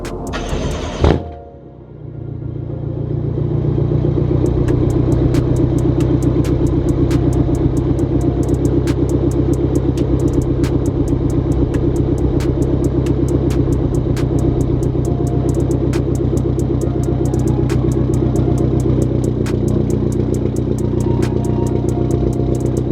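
A BMW F10 M5 fires up with a sharp burst, then settles into a deep, loud, steady idle rumble with a fast ticking clatter running through it.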